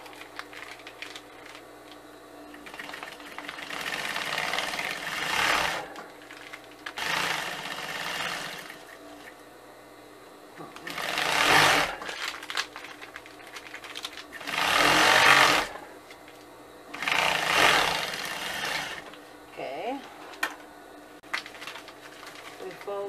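A sewing machine stitches the strap of a feed bag, running in several loud, close whirring bursts separated by short pauses, with some talking in between.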